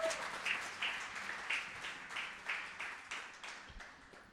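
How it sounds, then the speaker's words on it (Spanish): Church congregation applause during a Sunday service, a few seconds of steady rhythmic group clapping at moderate volume, slightly distant and gradually tapering, with no talk over it. "¿Por qué no le das un fuerte aplauso a Dios y a su palabra?"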